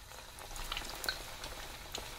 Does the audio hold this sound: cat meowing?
no